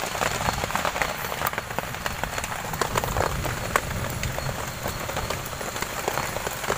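Steady rain pattering on the forest floor and leaves at a camp in the woods, a dense continuous hiss with scattered close drops and no voices.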